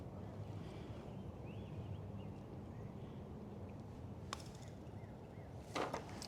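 Wind blows on an open golf course, making a steady, heavy rush and rumble against the microphone throughout. A couple of brief sharp clicks come through near the end.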